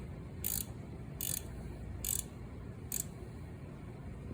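Four evenly spaced ratcheting bursts from a small speed wrench tightening a headlight bolt on a 2003 Honda Shadow Spirit motorcycle, close and crisp over a quiet background.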